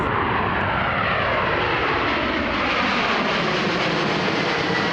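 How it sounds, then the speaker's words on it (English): A Korean Air Boeing 777-200ER with Pratt and Whitney 4000 engines roars at full takeoff power at Toronto Pearson, a loud continuous jet rumble with a slowly falling whine. "Let's listen to these Pratt and Whitney 4000s."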